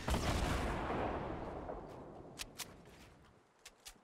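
Gunfire in the video game Fortnite, a burst of rumbling shots fading out, followed by a few sharp distant cracks near the end, fairly quiet.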